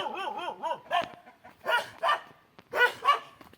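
Several dogs bark at visitors arriving at an old house in a forest area, a quick run of yips followed by louder barks in separate bursts, close by, with no talking.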